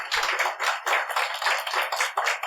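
Rhythmic clapping rises from a church congregation, a series of crisp, evenly spaced claps close by, with no talk over them.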